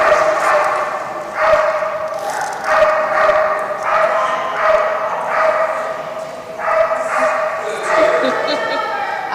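A cattle dog barks at a dock jumping distance event, a rapid repeated series of loud, close barks and yips, roughly one per second, with occasional whimpers.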